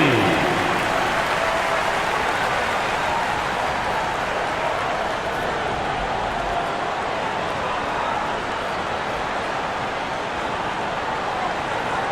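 A dense, continuous wash of crowd applause and cheering in an NBA 2K27 basketball video game, Philadelphia 76ers vs Indiana Pacers, steady and loud throughout, with an announcer's voice briefly audible underneath.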